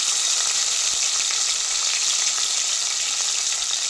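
Tomato and onion fry in a pan with cardamom, bay leaf and cinnamon, giving a steady, loud, close sizzle that holds evenly throughout with no talking.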